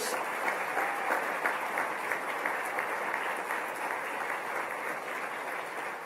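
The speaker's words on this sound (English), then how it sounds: "And please give them a round of applause." Steady applause from a seated audience at a formal assembly in Antigua and Barbuda, greeting four steel pan players; continuous dense clapping that holds evenly throughout, with no voices over it.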